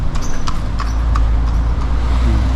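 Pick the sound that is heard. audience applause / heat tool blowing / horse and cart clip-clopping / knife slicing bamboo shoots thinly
horse and cart clip-clopping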